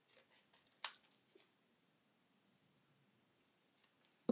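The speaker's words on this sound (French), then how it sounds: "je vais découper un peu plus petit parce que j'ai peur que ce soit trop serré" Scissors snip paper while trimming pieces for a handmade mini scrapbook album, a quick cluster of soft close cuts early on, then near silence before two more sharp snips at the end.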